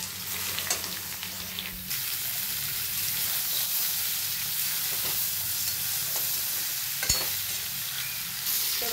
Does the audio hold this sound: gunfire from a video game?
no